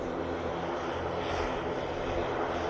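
A Loganair ATR 72 turboprop in Isle of Man livery drones steadily at Manchester Airport, its propeller engines giving a continuous, fairly loud, broadband roar with no talking.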